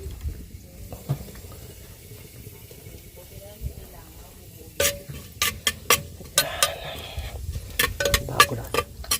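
Ginger dropped into hot oil in a clay pot, giving a low steady sizzle at first, then a run of sharp scraping and clinking stirs. No one speaks.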